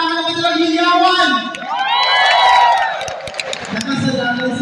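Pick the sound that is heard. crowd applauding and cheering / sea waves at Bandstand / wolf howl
crowd applauding and cheering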